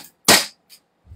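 A gas-powered toy gun fires a single sharp, loud crack close by, followed by a faint short echo-like pop and a low rumble at the end.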